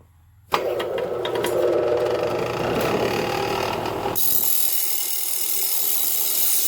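A bench grinder mounted on a homemade pedestal stand switches on and spins up: a sudden loud mechanical whir and rattle that changes to a steadier, hissing spin near the end. No one speaks.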